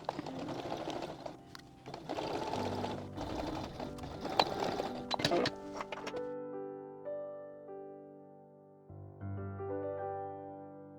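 A sewing machine stitches fabric at a 2.5 mm stitch length, a loud steady mechanical whir with ticking for about six seconds, then it stops and a quieter tonal hum follows.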